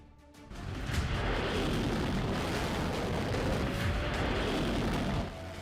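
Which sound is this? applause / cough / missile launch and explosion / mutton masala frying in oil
missile launch and explosion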